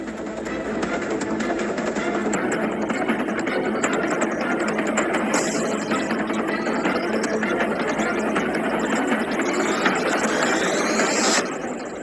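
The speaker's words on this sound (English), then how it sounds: "This engine, a high bypass turbofan jet engine, this is the engine that is on all military tankers and all commercial carriers" A high-bypass turbofan jet engine runs with a continuous, loud roar and whine. The noise stays unbroken and even for the whole stretch, with no voices.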